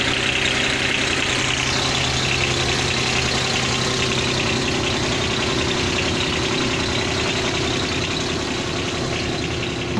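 A Nanni 21 marine engine aboard an H28 sailboat idles at a steady, unbroken drone with a faint knocking rhythm, running alone at close range.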